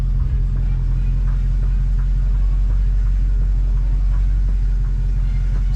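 A Dodge SRT sits idling in drive with its rear wheels spinning freely, a deep, constant low rumble close to the microphone with faint rhythmic ticking above it.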